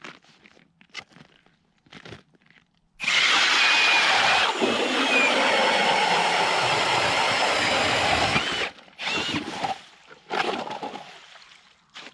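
A Ryobi cordless drill fitted with an ice auger and an HP lithium battery bores through ice for about six seconds, a loud steady grinding whir with crunching, then falls silent to scattered clicks and knocks.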